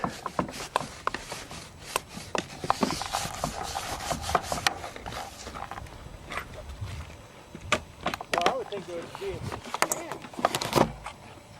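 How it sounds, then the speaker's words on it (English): Metal screws are driven into an RC airplane outdoors, giving scattered clicks, scraping and rubbing taps at close range, irregular throughout, with some talking mixed in. "now we got some metal screws in there, so it won't be coming out again"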